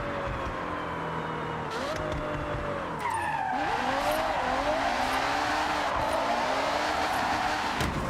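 A V12-engined car drifts in Forza Horizon, tires squealing in long wavering screeches over a droning engine that bogs and climbs again as the slide continues, loud and close with no talk.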